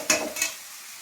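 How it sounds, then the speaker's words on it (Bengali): Onions frying in a pan for a fish-head and gourd curry, with two quick scraping stirs of a spatula against the pan over a faint sizzle, close and otherwise quiet. "এখানে আমি পেঁয়াজটা ভাজছি"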